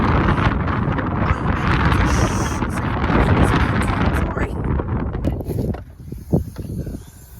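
Gusty wind buffets the microphone outdoors beside garden row covers, a steady roaring rumble that drops away near the end, with a few light handling knocks.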